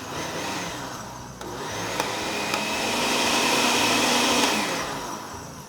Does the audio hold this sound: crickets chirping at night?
no